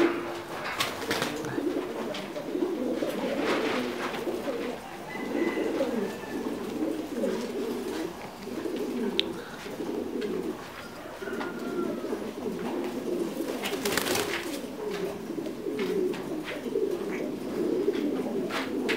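Titan Thai meat pigeons in a breeding coop coo steadily in a low, overlapping chorus, several birds close by, with faint chirps and occasional rustling throughout.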